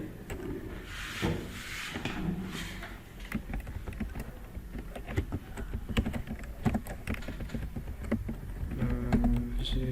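Rapid, irregular clatter of a malfunctioning computer keyboard with clustered key taps, close and fairly clear, a faint voice murmuring in places.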